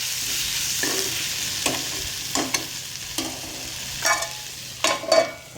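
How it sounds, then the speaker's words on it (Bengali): Potato, bitter gourd and eggplant frying with onion, green chilli and nigella seeds under a soft steady sizzle, punctuated by about six spaced spatula scrapes and stirs. "আলু করলা আর বেগুনের একটা মিক্সড ভাজা ভাজা তরকারি বানাচ্ছি"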